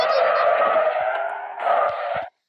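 Car accelerating and skidding in a video game, a continuous loud tire screech with engine roar that dips briefly and surges again before cutting off abruptly.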